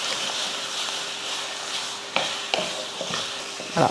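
Chicken tossed in masala and oil in a pan, a continuous sizzle broken by several scraping stirs of the spoon, close and fairly loud.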